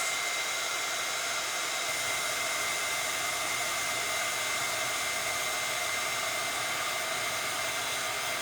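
A heat embossing tool blows hot air, a steady close whir and hiss of fan noise that runs unbroken and even from start to finish.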